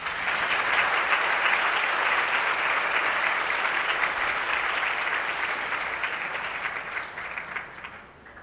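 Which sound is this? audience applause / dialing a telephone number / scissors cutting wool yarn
audience applause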